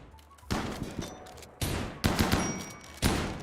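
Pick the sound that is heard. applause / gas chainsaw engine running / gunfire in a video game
gunfire in a video game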